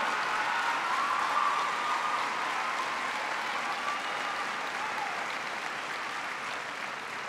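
An audience at a political speech applauds, a dense, sustained wash of clapping that fades slightly toward the end, with a faint voice briefly audible beneath it.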